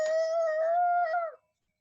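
A voice imitates car tires screeching around a corner too fast: one sustained, high, wavering squeal lasting just over a second, then silence.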